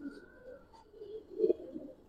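An old-lineage Giribaz pigeon coos in soft low murmurs, swelling into a louder, close coo near the end, with faint chirps in the background and no talking.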